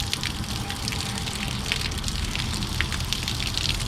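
Hot water pours steadily from a tap into a tank, a constant close, hissing gush of running water without pause.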